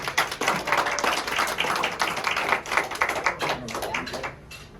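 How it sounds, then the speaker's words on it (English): A room of Kiwanis meeting attendees claps in a dense, steady round of applause that starts abruptly, holds at full strength for about four seconds, then thins out and fades at the end. "How about a big round of applause for all of them?"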